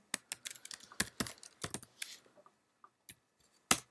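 Keys on a computer keyboard clatter in quick, irregular strokes as a class name is typed into a code search, close and crisp with short pauses between bursts.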